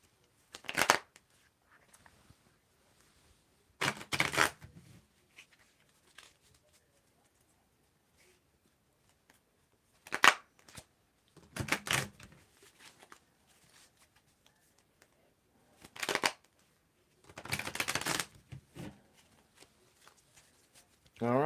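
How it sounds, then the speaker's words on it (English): Tarot cards are shuffled by hand in several short, papery bursts separated by quiet pauses, close and fairly soft. "let's mix and match the cards up there for Maria."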